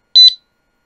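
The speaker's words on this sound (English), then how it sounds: "It's a motion alarm that goes into the disc brake, the little holes in the disc brake." A motorcycle disc brake lock's motion alarm, fitted through the holes of the brake disc, gives one short, high electronic chirp with a quick double pulse, then falls silent.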